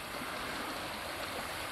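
The James River flows past, a dense, even wash of rushing water, steady and close with no other sound or talk.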